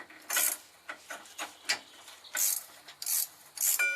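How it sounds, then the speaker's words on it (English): A 3/8 drive ratchet with a 19mm socket turns a torsion bar adjustment bolt on a Nissan Frontier, giving close, rapid clicking bursts in short strokes. "Then you use a 19mm socket and use 3/8 drive ratchet."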